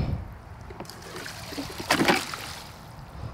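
Outdoors on a mild day, water trickles and flows faintly in the background, with a brief louder splashing surge just past the midpoint before settling back to a soft dribble.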